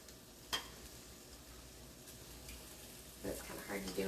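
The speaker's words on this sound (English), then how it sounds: "You hear that sizzling?" Soft steady sizzling of food in a warm cast iron pan, with a brief clatter early on and light voices near the end.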